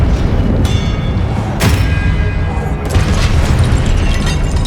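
A spell effect from Hogwarts Legacy bursts out as a heavy boom with a sharp crack, loud and close over a dense, rumbling game soundscape, followed by a second bright burst.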